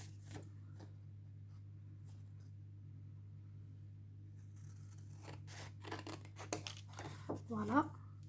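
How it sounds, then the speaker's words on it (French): Paper being cut with scissors or a craft cutter while assembling a handmade photo album, a few crisp snips and crinkles near the end over a steady low hum, after a long quiet stretch. "Donc vous faites vos petits traits et on coupe. Donc soit au cutter, soit au ciseau comme vous préférez."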